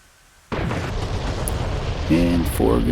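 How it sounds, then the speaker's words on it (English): Bombs from an F/A-18C striking targets in a flight simulator game, a sudden loud blast that sets off a sustained roaring rumble, with fainter secondary booms following. "Now all we've got left is to see if our bombs hit."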